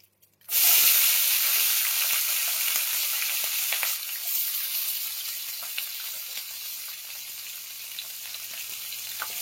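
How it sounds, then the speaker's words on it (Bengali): Chopped capsicum sizzles in hot oil with bhetki fish pieces in a chili garlic preparation, a steady loud frying hiss starting abruptly after a brief quiet moment and continuing with faint stirring clatter. "সেই ক্যাপসিকামটাকেও এখন এর মধ্যে দিয়ে দিচ্ছি।"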